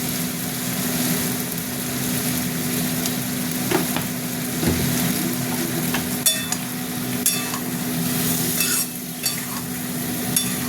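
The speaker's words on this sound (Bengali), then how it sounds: "মশলাটা আমি কষবো।" Spice masala of ground turmeric and other powdered spices with salt and tomatoes frying in a pan, with a continuous close sizzle broken by scraping stirs and clinks of the spoon.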